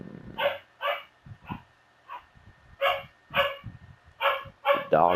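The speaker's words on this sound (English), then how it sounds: "The dogs are in there going crazy." Dogs barking from inside a building, a rapid series of loud sharp barks and yips in uneven bursts with short pauses between, fairly close and excited.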